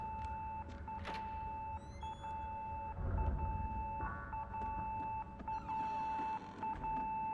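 Repeated electronic beeping from a nurse call in the Fatal Frame: Mask of the Lunar Eclipse video game, a steady tone broken into short pulses against murky background ambience, with a few brief chirps and rustles.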